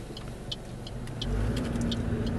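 A car on the road during specialised driver training with Bluetooth accessory controls hums along at moderate distance, its engine rumble steady and then swelling slightly as it picks up speed, with faint clicks and taps scattered over it.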